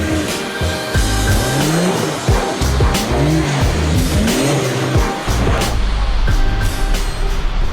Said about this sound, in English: In the snow, the 911 spins round like a record, which is a lot of fun